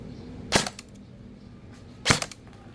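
Two sharp, separate shots, about a second and a half apart, from an EC 867 Noveske airsoft rifle fired through a chronograph, each a crisp snap against a quiet room.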